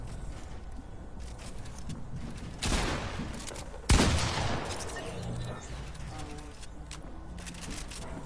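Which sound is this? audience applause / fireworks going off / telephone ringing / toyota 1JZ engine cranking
fireworks going off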